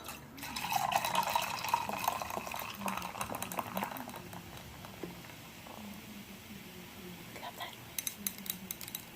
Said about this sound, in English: let me pour myself some more soda